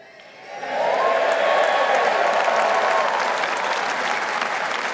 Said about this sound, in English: I'm not sure that every media channel will quite get that round of applause